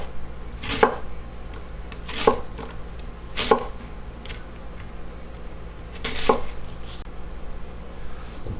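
A knife chops half of a large white onion on a board, four distinct sharp cutting strokes spaced irregularly, close and fairly loud over a quiet background.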